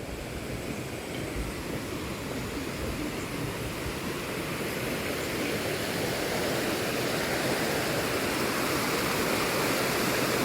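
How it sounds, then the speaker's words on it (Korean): Steady rushing of a winter stream flowing right in front of a rural house, a constant broad water noise without pauses or voices. "자, 물소리가 들리시죠?"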